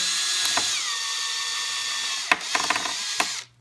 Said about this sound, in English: let's put in our 9/16 drill bit. We're going to go ahead and drill that one first